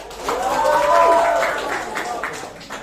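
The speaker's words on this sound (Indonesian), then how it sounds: "tepuk tangan Iqbal" Brief classroom applause for a student named Iqbal, with children's voices rising over scattered clapping that swells and then thins out.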